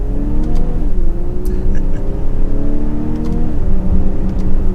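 A 2022 BMW X5 xDrive 40i six-cylinder engine hums smoothly and rises in pitch as it accelerates, dipping briefly at gear changes, heard from inside the cabin.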